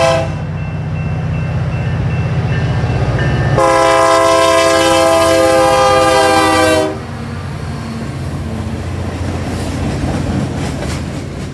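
A BNSF freight train led by an ex-ATSF GP35U with a GP40-2 trailing blasts a loud, sustained multi-tone horn over the rumble of passing locomotives and cars, then the horn cuts off and the rolling rumble continues.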